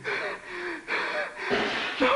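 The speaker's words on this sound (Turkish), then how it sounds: "Nefes nefese kaldık hadi." People in a frightening game moment gasping and panting out of breath, a few sharp, voiced gasps and heavy breaths in quick succession, close and fairly loud.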